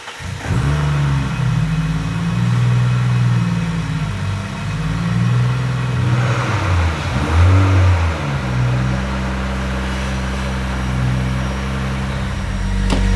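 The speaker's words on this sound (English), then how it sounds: "We'll start it up now. Yeah, warm it up and get it onto the dyno." A Ford Territory AWD with a swapped Barra engine runs on a dyno setup, starting and holding a low, steady engine drone, rising in a few revs near the middle before settling to idle.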